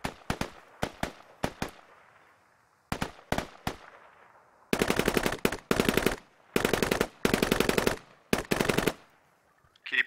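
Video game machine-gun fire in an enemy hill-and-fortress battle: sharp single shots, then several loud sustained automatic bursts with short gaps, no talk.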